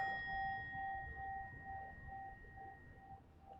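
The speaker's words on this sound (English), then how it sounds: "when I strike the bell" Struck meditation bell at a dharma talk, heard as a lingering metallic ring whose clear tone and overtones decay gently throughout, alone in a quiet room.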